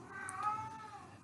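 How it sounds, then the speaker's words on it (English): A cat cries with a long, drawn-out wail, faint and distant, in the background of a quiet indoor recording of a recorded lecture on American expansionism. "my cat's in the background crying"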